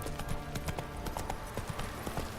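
Horse hooves clip-clop steadily in The Witcher 3, a close, rhythmic run of hard hoof strikes on firm ground lasting the whole moment without any voices.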